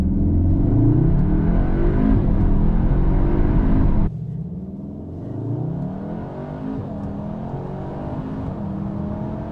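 A 2022 Cupra Leon Estate pulls away hard from a standing start, its engine note rising as it accelerates, then dropping sharply as it shifts gear before building again, loud and close throughout.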